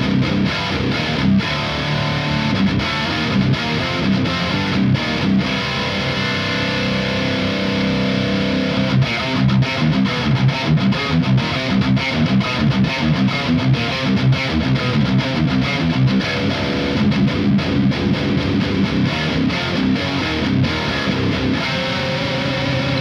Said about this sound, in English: here's the magic sauce when you blend the two together